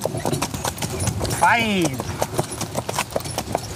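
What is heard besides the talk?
Shire horses trotting, hooves clip-clopping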